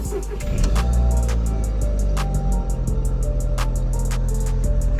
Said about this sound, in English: Okay, so if we start the car now,